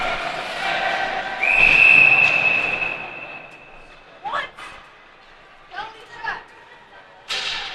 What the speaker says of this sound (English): Well, there was a whistle.